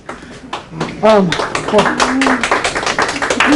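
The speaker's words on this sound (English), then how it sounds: "Applause and stuff." An open house audience applauds with a patter of many hands clapping at once, fairly near and lively, while people talk over it.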